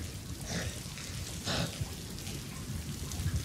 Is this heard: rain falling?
yes